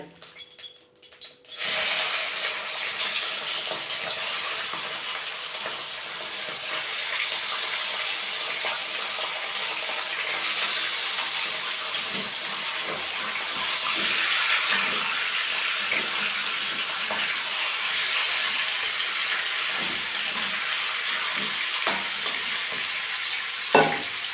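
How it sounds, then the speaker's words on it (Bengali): Pieces of chicken coated with salt and turmeric frying in hot oil, giving a steady, close hiss and sizzle with occasional stirring scrapes, continuous for about twenty seconds after a brief clatter at the start. "চিকেনগুলোকে হালকা একটু নুন দিয়ে হলুদ মাখিয়ে ভেজে নেব"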